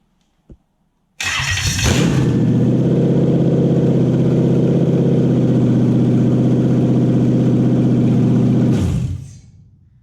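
A Toyota 1UZ V8 on its first start cranks briefly, then catches into a loud, steady idle with a deep rumbling drone that holds for several seconds before shutting off abruptly; a small click comes just before.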